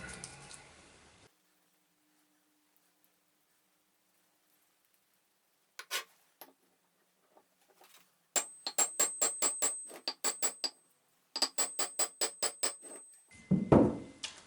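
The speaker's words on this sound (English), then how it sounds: "Because now of course I have to knock on the ball bearing itself." Copper hammer knocking on a steel ball bearing of a mini-digger idler wheel: a few isolated taps, then two rapid runs of sharp, ringing metallic strikes, close and loud, with no talk.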